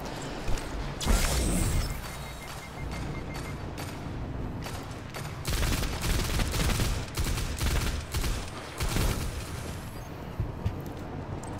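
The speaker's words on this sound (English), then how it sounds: "Using that assault rifle sort of like a pulse rifle." Assault rifle fire in Destiny 2 during a strike mission: loud, dense bursts of rapid gunshots with crashing impacts and mechanical clatter, continuous over a busy combat din.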